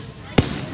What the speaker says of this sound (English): fireworks at the Sharon Lake